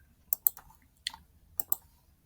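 A computer mouse clicks in two quick pairs with a single click between, sharp and close, while saving in Phoenix CRM software, with no voices around.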